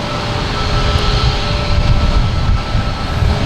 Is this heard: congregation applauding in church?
no